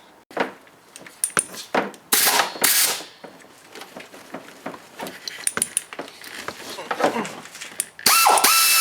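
Ratchet wrench clicking in short bursts while removing studs from the engine of a 1999 Pontiac Grand Prix GTP during a head gasket replacement, with scattered metallic clinks and handling noises close by, ending in a louder burst.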